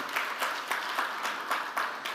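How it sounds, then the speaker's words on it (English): Event audience applauding in a steady wash of clapping with a rhythmic, pulsing swell about twice a second, moderately loud throughout. "A big round of applause for our chief guest speakers"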